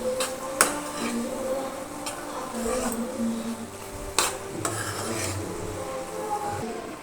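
Ridge gourd tomato curry with kasuri methi and garam masala being stirred in a pan, with soft scraping and rubbing strokes and a few sharp clinks of a utensil against the metal.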